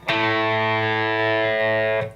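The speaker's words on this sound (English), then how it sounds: "I got some distortion." Electric guitar played through distortion with the bridge pickup and plenty of gain, a single sustained chord ringing loud and steady for about two seconds before cutting off.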